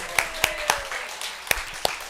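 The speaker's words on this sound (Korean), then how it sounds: "하나님께 영광의 박수를 올려드리겠습니다" Church congregation clapping in praise during a Sunday service, sharp scattered claps at a moderate distance rising from a quiet room murmur over about two seconds.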